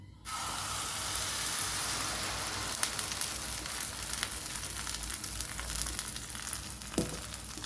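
Steady, loud sizzling of a vegetable omelette frying in coconut oil fills the whole clip, a dense crackling hiss with occasional sharper pops and no voices.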